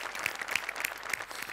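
Studio audience applause during a Marathi comedy show, a dense steady patter of many hands clapping continuously, with sharper individual claps standing out, lively and close.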